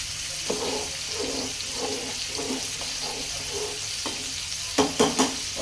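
Food frying hard in a pan before slow braising, a constant sizzle under rhythmic spatula scrapes, with a few sharper clatters near the end, close and moderately loud, no voices.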